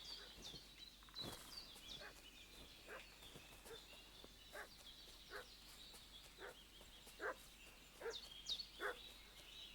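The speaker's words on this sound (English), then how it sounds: "What's that dog making such a fuss about?" Dog barking in Kingdom Come: Deliverance II, a series of sharp, fairly faint barks repeating at an irregular rhythm over a chirping outdoor game ambience with birds.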